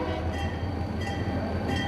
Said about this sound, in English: The special train slows to a stop at the Orange Avenue crossing in downtown Fort Pierce.